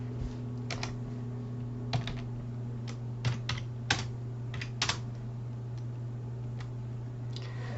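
Keyboard typing while writing JavaScript code, with irregular light key clicks and a few louder taps over a steady low electrical hum, close and fairly quiet.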